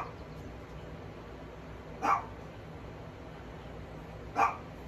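Two distant dog barks from outdoors, spaced a couple of seconds apart, faint above a steady background hiss.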